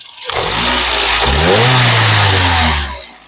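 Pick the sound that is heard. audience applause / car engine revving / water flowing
car engine revving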